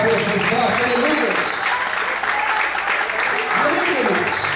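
A church congregation applauds loudly and continuously, a thick wash of clapping that fills the whole stretch, with a voice and crowd murmur mixed underneath.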